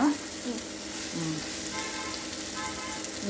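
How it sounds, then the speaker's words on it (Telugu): Tamarind leaves and dried fish frying in a pan, a steady close sizzle running throughout with faint stirring scrapes and brief tonal kitchen noises. "దీన్ని కొంతసేపు వేగనిద్దాం"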